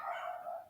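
A dog barks in a short, fairly quiet burst, a single sustained yelp-like bark with no speech over it.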